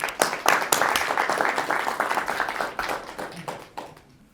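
An audience claps at a commemoration event, with dense applause from many hands that swells early, stays strong, then thins and fades out toward the end.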